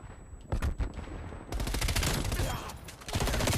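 Gunfire from a Call of Duty Cold War multiplayer hardpoint match: a few sharp shots early on, then a long dense stretch of rapid automatic fire that fills the clip at close range.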